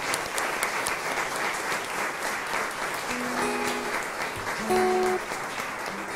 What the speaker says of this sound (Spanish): Vamos también a darles un gran aplauso a los emausianos.